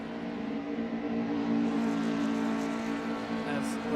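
Many cars in the Assetto Corsa racing game do end-of-race burnouts at the Hungaroring, blending into a dense, steady engine drone and tyre roar that swells slightly midway.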